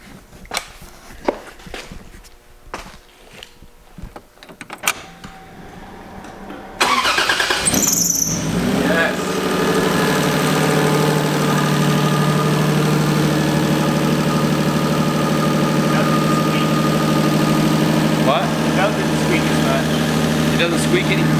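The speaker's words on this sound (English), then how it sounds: "I wanted to show you guys the first startup of this engine after having worked all night to put it together" A freshly rebuilt drift car engine cranks and fires after several seconds of quiet handling noises, then settles into a loud, steady idle that runs continuously to the end.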